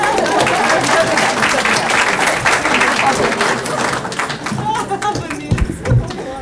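An audience applauds the actors after a stage performance, loud sustained clapping that gradually thins out, with a voice and a few knocks near the end.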